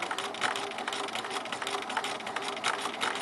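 A sewing machine runs steadily, stitching fabric pieces together for a scrappy bear paw quilt block, its fast, even needle clatter loud and close with no pauses.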